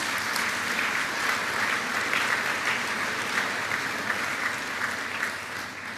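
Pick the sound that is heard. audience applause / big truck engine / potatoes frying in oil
audience applause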